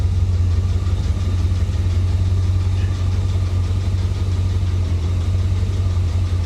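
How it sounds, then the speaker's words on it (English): Chevrolet Corvette V8 idling roughly with a dead miss on one cylinder, a steady low engine drone with tapping, rattling exhaust noise, close by and continuous without talk. "Now that tapping, rattling noise that you're hearing, that is definitely coming from the exhaust."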